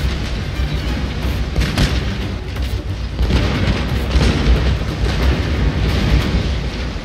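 Chinese cannons fire in the strategy game Shogun 2 during an Imjin War scenario against coastal defenses: a dense, continuous roll of deep booms and blasts, loud and overlapping throughout.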